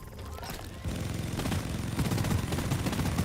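Rapid bursts of automatic gunfire in a video game, dense and continuous after a brief quieter start, loud and close with crackling shots stacked over background game noise.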